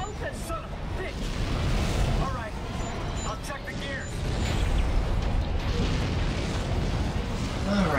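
Fire roars on a ramp in the co-op game Dead Space 3, a continuous loud rumbling and crackling blaze with occasional bursts and mechanical clanks, while players talk over it.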